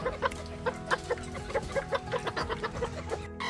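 Thailand Chabo bantam rooster of the Benjarong variety clucking repeatedly in a steady, close, fairly loud series of short calls, heard alone without talk.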